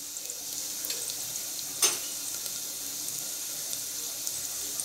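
Onions frying in a pan until pink give a steady, close hiss of sizzling oil, with one brief sharp clink near the middle and no voices.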